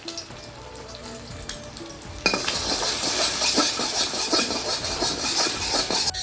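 An egg seasoned with salt and a little turmeric fries in oil in a pan. A loud, close, crackling sizzle starts abruptly partway through and continues evenly after a quieter opening.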